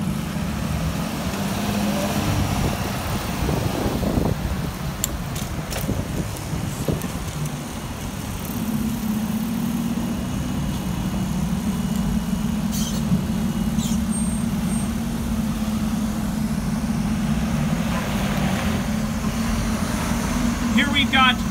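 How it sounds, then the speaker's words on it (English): Tampa Fire Rescue vehicles, a 2018 Pierce engine and a 2018 Freightliner M2 rescue truck, rolling past on the road after a traffic accident call, a loud low engine drone steady throughout, with a person talking over it. "we've got engine one and rescue one returning from a traffic accident"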